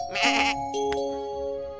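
A goat in the video game Good Pizza, Great Pizza gives one loud, close, wavering bleat over a sustained electronic musical tone, then a short clicky game sound follows.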